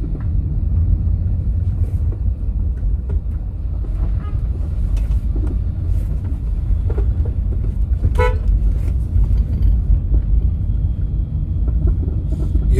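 Loud, steady low rumble of a car driving along a road toward the Somerset bridge, continuous throughout, with a short horn-like toot partway through.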